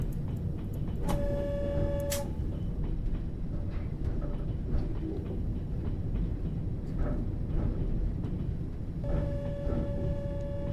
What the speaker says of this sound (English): Let's honk at him.